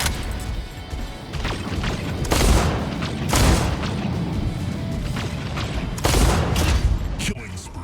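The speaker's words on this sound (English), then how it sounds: "So he's launched a mortar at me" Mortar fire and explosions in an Ares sniper-build tournament video game, a dense, continuous barrage of booms and crashing impacts with louder blasts recurring through the clip and speech mixed in.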